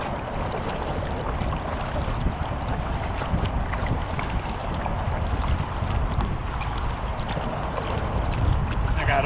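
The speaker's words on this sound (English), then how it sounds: "I got a wind right in my face." Heavy wind buffets the microphone aboard a small boat on the Schuylkill River near Boathouse Row in Philadelphia, a constant low rumbling roar with faint water noise beneath and no talk.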